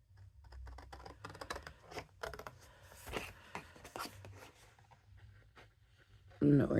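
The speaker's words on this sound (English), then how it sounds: "Let's see how bad this is going to be to cut out." Scissors snip out a paper craft piece for a rainbow box, a run of small, close, irregular cuts and paper rustles, with a louder rustle at the very end.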